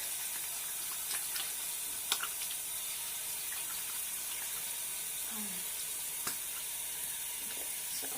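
Water from a tap runs steadily into a sink, a faint continuous hiss with a few small clicks and splashes, while hair product is emulsified with water for styling wavy, low-density, shoulder-length hair.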